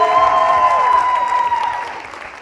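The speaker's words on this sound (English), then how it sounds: "Clap it up for him real quick." Crowd clapping at a school event, heard briefly and fading out, with a tonal ringing or music line running over it.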